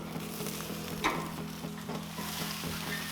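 Chicken wings sizzle steadily on a Char-Broil Performance Series gas grill, a continuous close crackle with a low rhythmic hum underneath and one brief louder pop, no talking.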